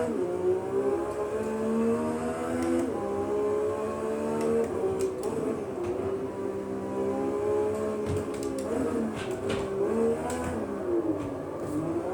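A car engine in the Automobilista 2 racing sim revs and rotates as gas is applied, a loud steady drone with harmonics rising and dipping several times throughout, alone without talk.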